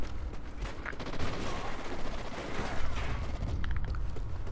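Rapid, dense gunfire fills an online Call of Duty Ghosts match, a continuous rattle of overlapping shots at moderate loudness with no talking over it.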